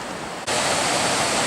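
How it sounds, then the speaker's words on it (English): Waterfall and river at Wachirathan Falls on Doi Inthanon, a dense, steady roaring wash that jumps suddenly louder after a brief moment and then holds constant, with no voices. "flow is getting stronger. You can hear the sound of the river."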